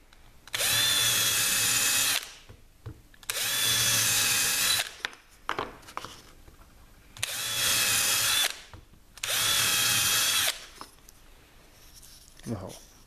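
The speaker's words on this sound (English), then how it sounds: "We're then going to take the cordless drill" A cordless drill bores holes through wood for a butt joint with countersunk screws, running in four loud, close bursts of steady whine about two seconds each, separated by short pauses.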